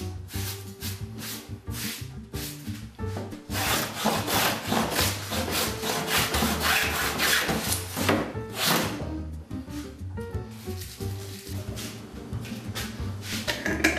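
A wooden panel, too wide for a thickness planer, is flattened by hand before gluing for a carved welcome sign. Loud, close, rhythmic scraping and rasping strokes follow one another steadily, with no talk.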